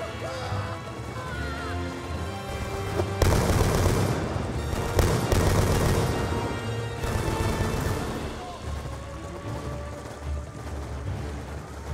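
Dense gunfire in the Call of Duty Black Ops II battle mission rescuing Sergeant Woods, with loud overlapping bursts and booms that swell heavily midway amid a busy game soundscape.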